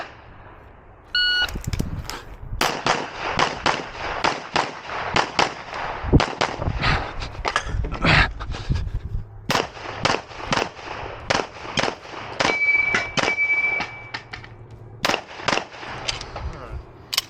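Pistol gunfire at a USPSA shooting match stage, a start beep followed by many sharp, loud shots in rapid bursts with short pauses, with some talk around them.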